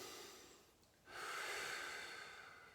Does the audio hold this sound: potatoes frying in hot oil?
no